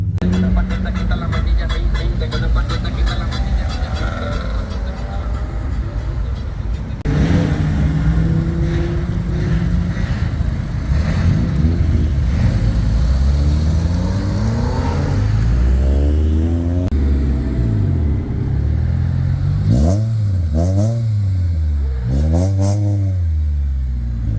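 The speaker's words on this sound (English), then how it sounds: "I'm just getting some cars leaving now" Engines rev and accelerate past one after another as cars leave a car meet, loud and close, with rising and falling pitch as vehicles pull away; faint voices underneath.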